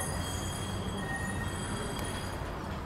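A new Blackpool tram on the Talbot Road tramway heading into the terminus, giving a steady, continuous rolling rumble with faint high whine throughout.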